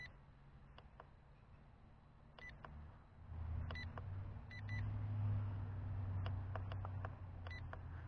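GOOLRC Binge 1 GPS drone sounding its low-battery warning, clusters of short faint high beeps repeating over a low motor hum and outdoor rumble.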